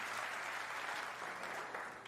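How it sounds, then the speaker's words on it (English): A snooker crowd at the World Snooker Championship final breaks into steady applause and cheering after a red is potted, a dense, continuous wash of clapping heard throughout. "you can hear a big cheer from the crowd"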